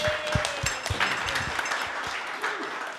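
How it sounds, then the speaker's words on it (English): An audience gives a round of applause at an architecture talk, a steady wash of clapping from many hands heard from a little distance, fairly faint and continuous throughout. "So please maybe encourage him with a round of applause to start with."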